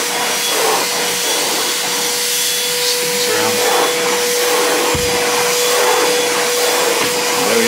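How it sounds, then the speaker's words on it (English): Ozito Power X Change 18V cordless wet and dry vacuum cleaner running steadily on battery while cleaning carpet, a constant loud whooshing motor hum with a fixed whine that holds throughout. "And now you can actually use it like a normal vacuum."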